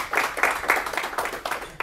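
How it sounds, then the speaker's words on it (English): A short burst of clapping from a small lecture audience, a few seconds of moderately loud, uneven applause. "A round of applause for Dave."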